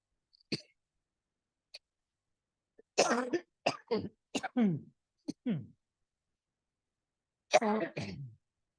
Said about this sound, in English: Thank you for this cough.